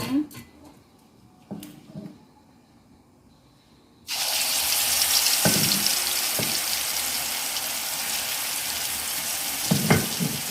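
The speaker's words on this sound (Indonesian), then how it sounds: "Nah, sekarang saya mau tumis, Bunda, bumbunya." Ground spice paste is dropped into a hot pan for a tempeh stew and sizzles steadily, a loud, continuous frying hiss that starts abruptly after quiet kitchen clatter and carries on with occasional stirring clicks.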